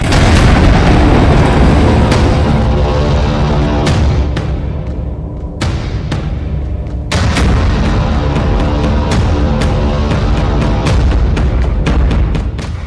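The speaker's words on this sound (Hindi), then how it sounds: "दिल्ली के रोहिणी के एक स्कूल के पास ब्लास्ट की ये लाइव तस्वीर है।" A bomb blast near a CRPF school in Prashant Vihar, Rohini, Delhi: a loud, dense, sustained roar broken by repeated sharp booming hits over about thirteen seconds.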